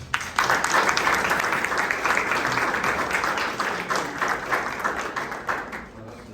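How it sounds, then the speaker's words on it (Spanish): An assembly audience gives a loud, steady round of applause to welcome a special guest, with dense clapping sustained throughout and tapering slightly toward the end. "Recibamos con un fuerte aplauso a nuestro invitado especial"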